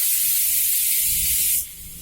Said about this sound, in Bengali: কালো জিরে ফোড়ন দিয়েছি আর তোমার শুকনো লঙ্কা, এই দিয়ে আলুটা একটু ভাজা ভাজা করে নেবো